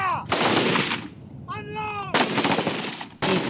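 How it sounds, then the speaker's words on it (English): African Union peacekeeping soldiers firing practice rounds on shore at the port of Mogadishu, Somalia: loud, close bursts of rapid gunfire in several volleys, separated by brief gaps with a tonal whine and background noise. "On shore, African Union soldiers fire practice rounds."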